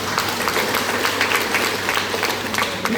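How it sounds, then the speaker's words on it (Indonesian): Church congregation clapping together, a dense, even wash of many hands that holds steady for several seconds, with no speech over it. "kita tepuk tangan untuk Tuhan yang sudah berdaya"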